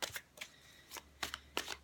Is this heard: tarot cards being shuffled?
yes